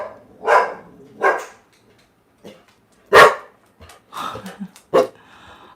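A dog barks sharply several times, close and loud, with irregular pauses and quieter yips between the barks.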